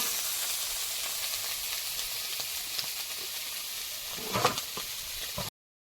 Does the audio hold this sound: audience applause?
no